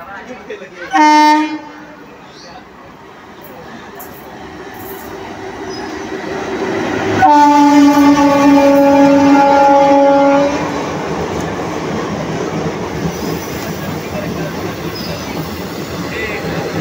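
A train pulls into a railway station on a Bangla rail route, its horn blasting briefly near the start and then sounding long and loud, with rumbling wheels and platform bustle continuing underneath.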